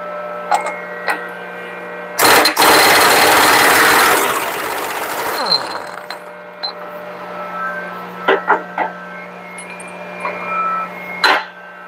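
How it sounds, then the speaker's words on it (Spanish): A pneumatic impact wrench with a 3/4 drive socket on a 2 1/4 nut, set to reverse to loosen a nut on an Eaton rear axle differential. It gives one loud, sustained rattling hammer burst of about three seconds, then winds down, with lighter clanks around it. "Tenemos una copa de 2 1/4 con cuadrante de 3/4, pistola, llave de impacto"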